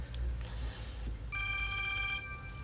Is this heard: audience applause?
no